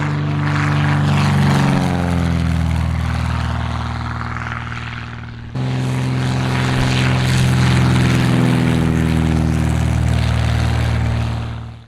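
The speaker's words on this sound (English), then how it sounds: "We simply can't ignore how good this relatively small 6-cylinder engine sounds" A Continental O-300 six-cylinder piston aircraft engine runs loud and steady with a deep droning hum, briefly easing off before surging back to a strong, even roar.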